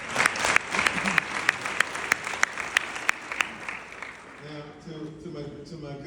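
An audience at a South Carolina TRIO award speech claps in a scattered, sharp run of individual claps that fades out as a voice resumes speaking near the end.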